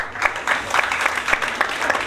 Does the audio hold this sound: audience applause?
yes